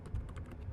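A computer keyboard tapped quickly while a network lookup command is entered at a command prompt, a short run of light, even keystrokes close by with no talking.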